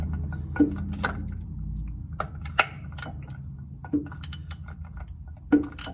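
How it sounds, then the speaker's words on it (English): A torque wrench tightens a plastic oil level sensor with an O-ring on a 2007 Chevy Silverado, giving several sharp mechanical clicks and ratcheting snaps at uneven intervals over a low, steady background. "So now we've got the sensor torqued to spec"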